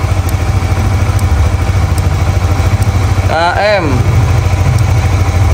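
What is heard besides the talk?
Honda CRF motorcycle engine idling, warming up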